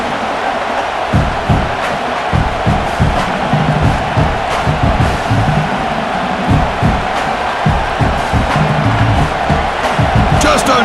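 A home stadium crowd roars steadily throughout an Ohio State versus Michigan college football game in NCAA College Football 26, a dense, loud wash of cheering with swelling shouts and no clear speech.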